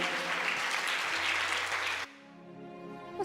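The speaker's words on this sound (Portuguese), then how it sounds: "vamos aplaudir ao Senhor Jesus com fé" A church congregation applauds loudly and steadily for about two seconds, then the clapping cuts off abruptly, leaving a quieter sustained tone with faint residual sound.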